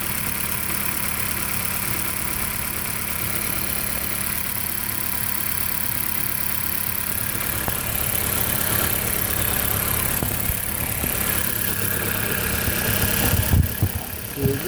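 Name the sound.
2008 Dodge Caliber engine misfiring at idle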